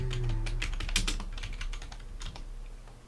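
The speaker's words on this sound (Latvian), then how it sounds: "un mēs varam vienkārši šeit rakstīt tekstu" Rapid, irregular clatter of keys as text is typed on a computer keyboard, close and clear with no voices, a steady stream of light taps over a faint background hum.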